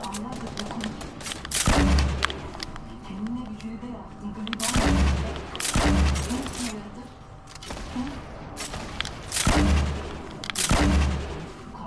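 Gunfire and grenade blasts in a shooter game, several loud booming bursts spaced a couple of seconds apart with scattered shots between, while a player talks over them.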